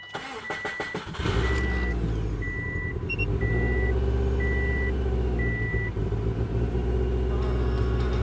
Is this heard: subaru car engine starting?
yes